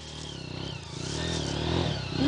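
A motorcycle engine labors steadily on a dirt trail, close up and rising slightly in loudness toward the end. Faint clattering comes from the trail beneath it.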